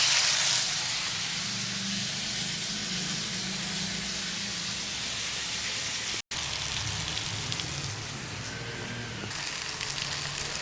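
Onions and green chilies sauté in a pan with a steady, broadband sizzle and hiss that runs continuously at a fairly loud, close level, briefly cutting out once midway before resuming, with no voices heard.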